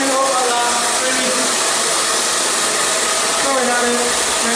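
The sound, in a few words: hair dryer blowing without nozzle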